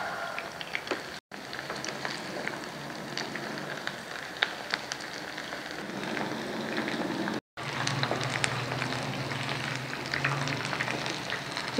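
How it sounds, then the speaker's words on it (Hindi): Chicken pieces frying in oil over a medium flame until golden, a steady close bubbling crackle that runs without pause and is briefly interrupted twice. "गोल्डन फ्राई होने तक इसको फ्राई करते हैं।"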